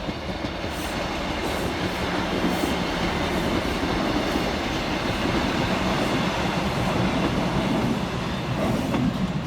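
Two coupled Scotrail Class 156 units, 156507 and 156504, run through the high-level platforms at Pollokshields East station with a loud, steady rumble of diesel engines and wheels on rail, close by throughout.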